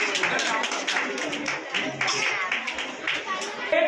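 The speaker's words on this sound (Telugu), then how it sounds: "గట్టిగా చప్పట్లు." Audience clapping at an award ceremony, a steady dense patter of many hands lasting throughout, close and fairly loud with faint voices mixed in.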